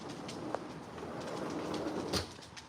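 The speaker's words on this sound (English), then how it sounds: "Hi, baby birds." Pet birds coo softly indoors against a low, steady background hum, quiet and fairly distant, with no talking.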